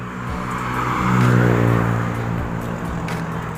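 Road traffic at a roadside spot: a vehicle approaches, swells loudly as it passes close by, then fades, leaving a steady low rumble of engines with no talk.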